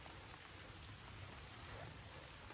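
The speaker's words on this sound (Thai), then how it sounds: "ฝนมันตกนะคะทุกคน" Steady rain falls in a constant, even hiss in a forest, without any voices.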